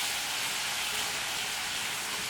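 Water poured into hot sugar caramel while making naran kevum gives a steady, even hiss that fills the whole short moment without a break.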